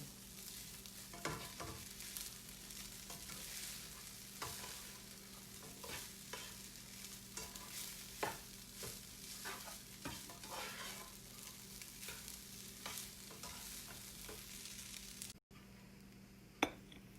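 Fried rice sizzles in a hot pan while a spatula stirs and scrapes it in steady, repeated strokes, a close and continuous frying hiss with sharp clinks of metal on the pan.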